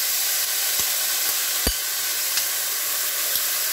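Oil and butter browning in a pan for a simple Moroccan meat dish, giving a steady close sizzle with faint crackling pops throughout and no voices.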